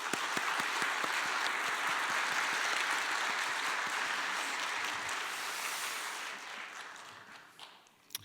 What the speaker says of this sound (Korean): 우리 박수로 한번 좀 격려를 좀 해드리고 싶은데